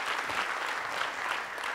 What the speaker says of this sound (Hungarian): Egy tapsot Gödöllőnek.